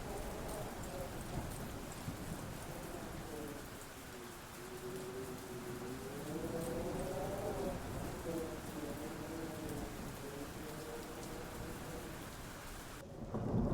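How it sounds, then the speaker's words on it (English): Steady rain from the game Black One Blood Brothers hisses continuously at moderate level, with low rumbling beneath and a faint wavering tone drifting through the middle. "listen to the sound of the rain, the soft little pitter-patter of the raindrops"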